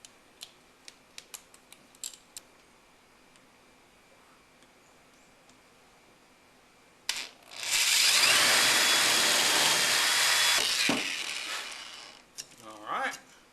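A power drill with a larger bit bores a hole in aluminum plate during a Snapper lawn mower deck repair, starting with a few light clicks, then a loud whining grind for about four seconds before stopping, followed by brief handling sounds.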